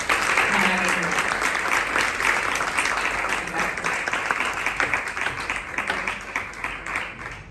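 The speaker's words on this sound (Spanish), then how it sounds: "Mónica, un gran aplauso para nuestro talento." Sustained applause from an audience at a book presentation in Málaga, honouring a singer after her performance; steady, dense clapping throughout that tapers slightly toward the end.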